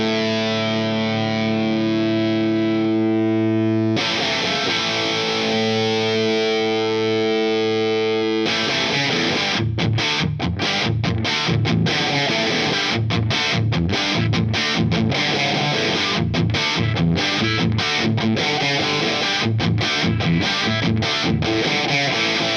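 Overdriven electric guitar through an Origin Effects RD Compact Hot Rod pedal set for a cranked Plexi amp tone. It opens with a few clean, sustained notes, then loud distorted chords and rhythmic chugging riffs ring out with no talking.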